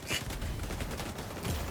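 Shots from a video game weapon, a short flurry of loud, rapid gunfire with a sharp burst at the start and another near the end.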